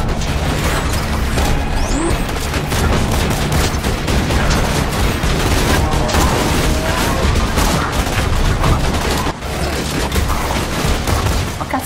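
Continuous firefight in Borderlands 2, rapid gunshots and machine-gun bursts layered with booms and mechanical clatter, loud and dense with no pause.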